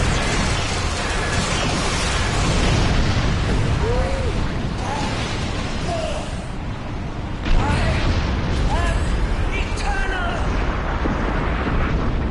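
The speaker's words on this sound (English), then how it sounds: "right next to the warp core explosion?" A warp core explosion in a Star Trek video game: a dense, continuous roar of blasts and rumbling debris with a sharp burst near the middle, while players talk over it.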